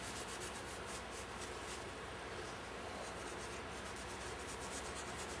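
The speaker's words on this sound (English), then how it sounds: "Just get that clean with the scuff pad." A metal part from a Meyer E 47 microphone being scrubbed clean with a scuff pad, a continuous close, harsh rubbing hiss with quick back-and-forth strokes and no talk.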